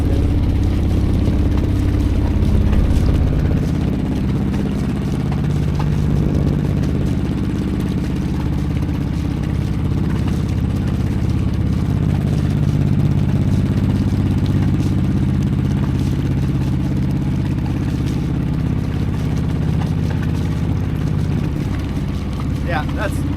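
A boat engine running in forward gear at about 2,000 RPM after a fouled propeller was cleaned, a steady loud mid-pitched drone with light clatter that holds constant throughout, with someone talking over it.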